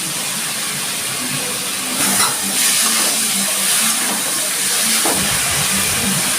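Shrimp dropped into a hot pan with sugar for a Bengali Malabar spinach dish set off a loud, steady hissing sizzle that swells slightly after a couple of seconds and holds without pause.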